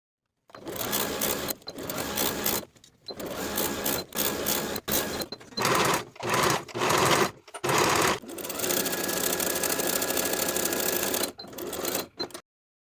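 A sewing machine stitches the sleeve seam of a blouse, running in steady bursts of fast rhythmic whirring separated by short pauses, close and loud with no talking.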